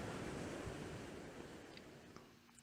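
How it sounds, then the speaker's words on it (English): Sea waves wash over coastal rocks in a faint, distant surf roar that slowly fades, with no voices. "I'm waiting for sets of waves to come in and crash over the rocks"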